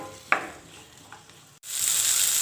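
Steady sizzling of ginger and garlic sautéing in a pan for mushroom gravy, with a couple of soft stirring clinks early on and a louder, brighter hiss swelling after a short break.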